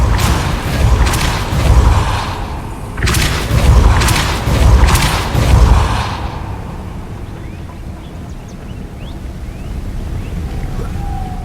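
A Repulso spell cast in Hogwarts Legacy lands as a series of deep whooshing booms in two rhythmic clusters, loud and close, before fading to a quiet ambient hum.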